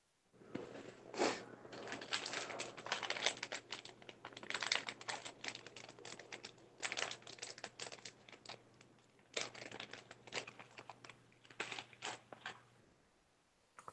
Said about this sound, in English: let me type something in the chat